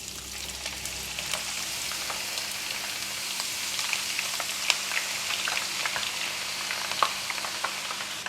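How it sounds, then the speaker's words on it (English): Ginger deep frying in very hot oil in a pan, a dense continuous sizzle with scattered crackling pops, steady and close with no talking. "First, I'm going to deep fry the ginger."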